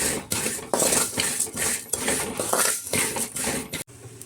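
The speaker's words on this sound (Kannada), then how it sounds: "ಈಗ ಮೆಂತ್ಯ ಹಾಕ್ಕೊಳ್ತಾ ಇದ್ದೀನಿ, ಇದು ಹಾಕ್ಕೊಂಡು ಸಹ ಫ್ರೈ ಮಾಡ್ಕೊಳ್ತಾ ಇದ್ದೀನಿ ನಾನು" Fenugreek seeds fried in oil in a pan for vangi bath powder, with constant crackling sizzle and repeated metallic scrapes and clinks of a spoon against the pan, close and fairly loud.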